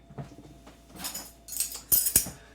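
Metal measuring spoons rattled and clinked while being handled in a home kitchen while baking, a few light jangles building to two sharp bright clinks near the end, close and fairly quiet, with no talking.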